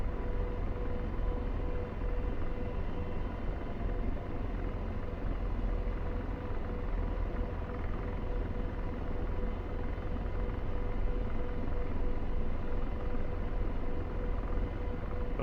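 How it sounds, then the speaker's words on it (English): A Chinook twin-rotor helicopter in the DCS flight simulator, heard from the ground nearby as a steady, continuous engine and rotor drone with low rumble throughout, no talk. "I'm landed by this Chinook right here."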